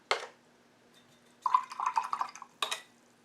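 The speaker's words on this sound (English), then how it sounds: "I'm going to rinse this brush." A paintbrush is swished and rinsed in a water jar during acrylic painting, giving a brief splash at the start, then a burst of watery clinking and dripping, and a final short splash, all close and without talk.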